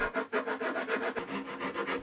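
A hand saw rasps steadily through a guitar's wooden body in quick back-and-forth strokes, close and alone, with an even rhythm throughout.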